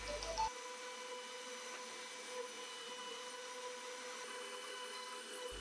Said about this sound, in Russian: Шпиндель работает без нагрузок.